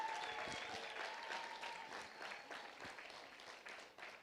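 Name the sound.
audience applause welcoming a speaker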